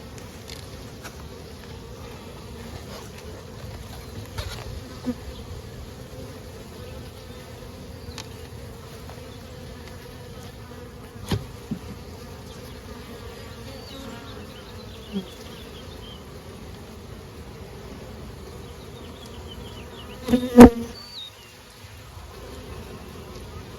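Honey bees hum steadily around a hive box during a frame transfer to a small swarm, a low continuous drone with a few brief knocks and a louder handling bump near the end.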